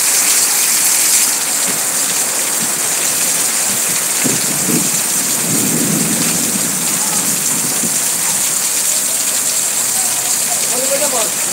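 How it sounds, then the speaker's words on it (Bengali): Heavy rain pours steadily and loudly as a dense, continuous hiss, with a low rumble of thunder rolling briefly in the middle and faint voices in the background. "আল্লাহর রহমতের বৃষ্টি"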